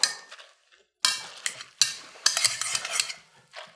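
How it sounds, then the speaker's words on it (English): A potato masher stirs and mashes cooked cauliflower in a pot, making short, separate scraping clacks and soft wet squelches in uneven bursts, close and clear with no voice over them. "I prefer doing it this way with my masher. A little stir."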